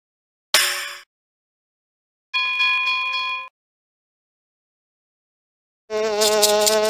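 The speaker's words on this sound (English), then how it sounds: "I hear a busy bee." A cartoon-style busy bee buzzing in short bursts, separated by silence, with a bright tonal chime-like quality; each burst is fairly loud and close.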